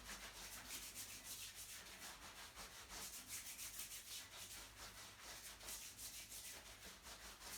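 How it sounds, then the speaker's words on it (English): Hands rubbing vigorously up and down an arm during an exercise class, a soft, steady swishing friction with a rhythmic back-and-forth pulse, close and quiet, with no voices. "Rubbing all the way up one arm, nice and vigorous."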